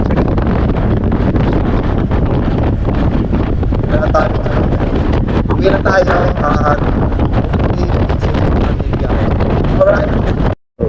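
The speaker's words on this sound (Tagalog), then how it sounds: "Sobrang lakas ng hangin." Very strong wind buffets the microphone throughout, a loud steady roar on a road trip toward Governor's Drive, with a person speaking briefly over it.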